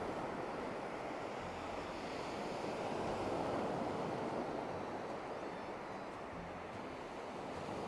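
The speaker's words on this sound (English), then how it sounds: "There's a nice breeze coming off the ocean. Just check out the waves." Ocean waves break on a quiet beach at Ao Kiu Na Nok on Koh Samet island, Thailand. A breeze blows across them, making a steady, full roar of surf and wind that runs unbroken the whole time.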